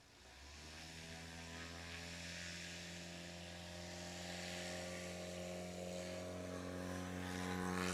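An Aviat Husky airplane takes off at a STOL competition in Sulphur Springs, Texas, its propeller engine droning steadily and building in power, heard from a distance as a strong harmonic hum.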